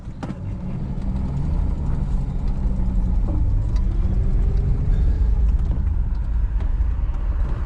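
An old Plymouth Valiant engine runs at a steady, loud rumble throughout, close by and unbroken, with no voices.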